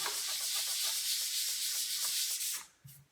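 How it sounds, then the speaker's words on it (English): End grain cutting board hand sanded with 120 to 180 grit sandpaper: a steady, close, continuous rubbing scratch that runs for about two and a half seconds and then stops abruptly. "you can just take 120, 150, 180 grit sandpaper, anything above 120 really. You just sand it by hand anywhere you need"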